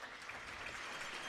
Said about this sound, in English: there's the round of applause coming.